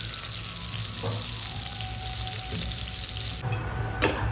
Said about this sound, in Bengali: এটা এখন একটু ভাজা ভাজা মতন হবে